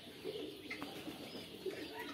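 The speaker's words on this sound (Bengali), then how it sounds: "এই যে আমার কয়েকটা কালার আছে জাপানি কোয়েল পাখি।" Japanese quail of several colours on a small farm, giving a couple of brief soft cooing calls against a faint, quiet background, heard at a little distance with no talk.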